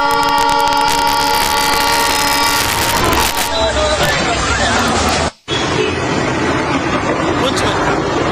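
A train passes close by, sounding a loud sustained horn over a heavy rumble and clatter of wagons that continues steadily after the horn stops, with a voice talking over it.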